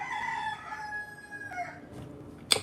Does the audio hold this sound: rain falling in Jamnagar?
no